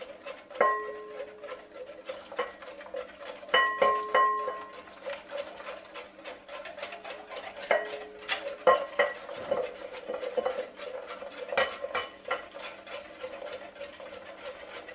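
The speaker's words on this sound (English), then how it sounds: "so you just do a little bit at a time, whisking all the time" A whisk beats eggs into hot milk for homemade vanilla custard, rattling and clinking against the bowl in quick, continuous, irregular strokes at close range.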